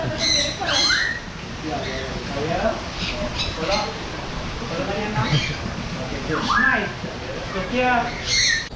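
Parrots squawk and call repeatedly in a bird park in Kuala Lumpur, Malaysia, sharp cries rising over a steady crowd murmur and nearby voices.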